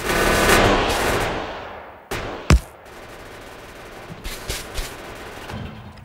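Gunfire in the video game Factorio: a dense, loud automatic burst at the start that fades, then a sharp blast and a few scattered shots under the lingering noise.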